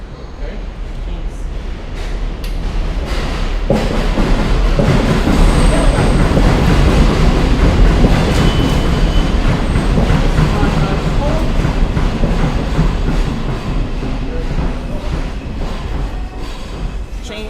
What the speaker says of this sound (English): I think the train that's coming.